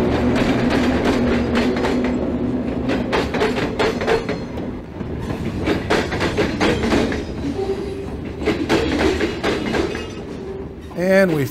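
An Escanaba and Lake Superior Railroad train led by a leased DM&IR SD9 locomotive rolls past at close range in Wisconsin, with a loud, steady rumble and rhythmic clickety-clack of the wheels, ending in a brief high squeal.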